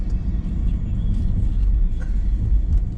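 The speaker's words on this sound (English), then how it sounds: "I'm going to drive the Plaid on the street for the first time" A Tesla Model S Plaid rolls along a city street, heard from inside as a steady low road rumble and tire noise, fairly loud and continuous with no voices.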